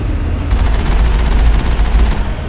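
Heavy automatic turret fire in the Mass Effect video game, a loud, sustained rapid burst of shots with deep rumbling low end, close and continuous throughout.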